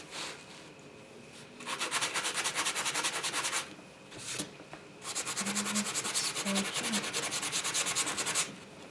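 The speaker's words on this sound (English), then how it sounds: "Just distressing it so that it looks part of the project." A wall sconce is sanded by hand to distress it, with two long bursts of close, rhythmic, brisk rubbing strokes separated by a short pause.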